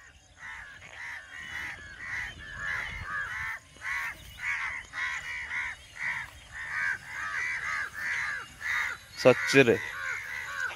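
Several crows caw loudly in a steady series of harsh calls on a village morning. A person speaks briefly during the calls.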